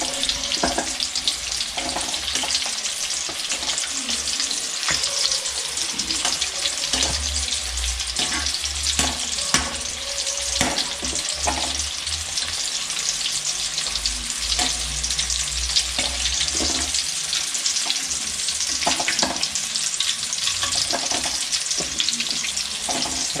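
Chicken pieces for broasted chicken fry in well-heated oil, a loud steady sizzle and crackle running throughout with occasional stirring and clatter, no voices.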